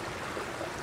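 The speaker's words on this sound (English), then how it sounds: "They have this water, as you can see, that flows through, and it's so, the sound of water is so relaxing." Steady rushing water pours through a memorial water feature at a September 11th tribute, a dense, even wash of sound heard close and alone.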